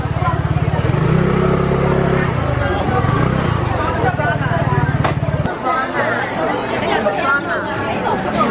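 A motorcycle engine drones and putters slowly through a packed crowd on Jiufen Old Street in Taiwan, close by and fading after a few seconds, under constant chatter and babble of many people.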